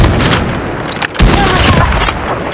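Dense, loud gunfire from a weapon with an MK2 attachment in a shooter video game, followed by a booming shockwave explosion, heard up close and alone in one continuous roar.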